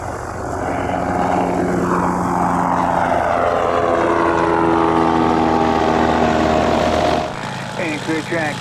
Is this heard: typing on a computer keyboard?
no